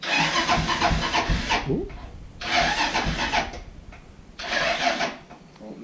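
A Honda 400ex ATV with electrical trouble cranks and tries to start in three long, loud churning bursts separated by short pauses, with a brief exclamation and talk nearby.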